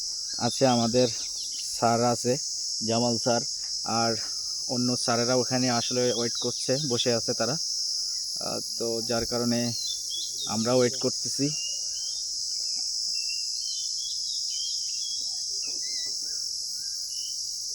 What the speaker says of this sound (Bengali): এখানে ঝিঝি পোকার ডাক শোনা যাচ্ছে।